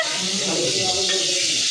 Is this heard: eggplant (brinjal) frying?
yes